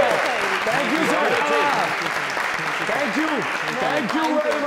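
Studio audience clapping steadily and loudly throughout, a dense continuous wash of applause with no pauses, at a televised comedy show.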